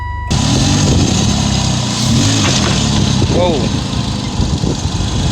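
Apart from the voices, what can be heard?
car engine starting and running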